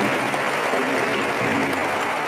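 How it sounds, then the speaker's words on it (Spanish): Congregation applause in a Spanish-speaking church gathering, a dense, loud, even wash of many hands clapping throughout, with no speech over it. "Un aplauso para ella."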